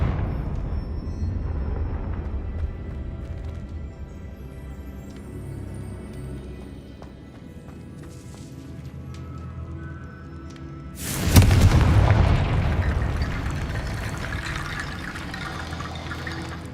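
A Confringo fire-explosion spell in Hogwarts Legacy on PS5 bursts out loud and sudden partway through, after a stretch of low ambient rumble and faint magical tones, then fades into a sustained crackling tail.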